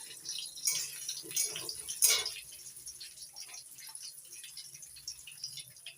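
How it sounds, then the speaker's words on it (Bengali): Gobindobhog rice being washed in water, with soft splashing and sloshing that rises in a few brief louder bursts, the clearest near the two-second mark, over a steady faint wet background. "গোবিন্দভোগের আতক চালটা আমি জল দিয়ে ধুয়ে জল ধরে নেব"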